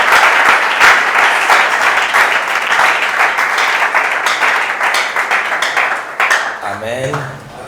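A church congregation applauding and cheering for the Lord, dense sustained clapping with voices mixed in, fading toward the end as a short musical tone rises.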